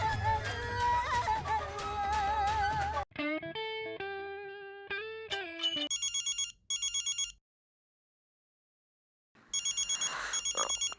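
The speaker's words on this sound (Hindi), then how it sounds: "फोन बज रहा है।" A telephone rings in repeated electronic bursts, a melodic tone followed by trilling rings with pauses between them.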